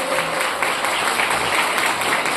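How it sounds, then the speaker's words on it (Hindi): Audience applause fills an indoor business gathering honouring Mr. Ramdas Gupta: a dense, steady wash of many hands clapping at once, moderately loud and unbroken for the whole stretch, with no voices over it. "मैं जोरदार ताली चाहूंगा अपने गुड्डे"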